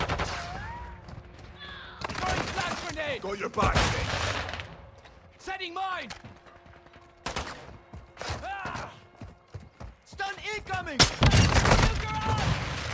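Gunfire in the video game Call of Duty Warzone 2 comes in repeated bursts of rapid shots and booms with short pauses between them, loud and close.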